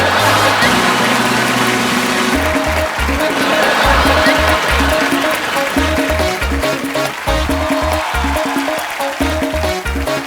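A studio audience on The Kapil Sharma Show applauds and cheers to welcome a singer. Loud, continuous clapping rises over a thumping band beat that plays throughout.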